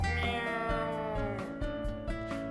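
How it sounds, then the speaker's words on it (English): A cat in the video game WILL: A Wonderful World meowing in a strange, drawn-out, wavering tone, with several yowling pulses in a row, clear and fairly close. "That sounds like a weird cat"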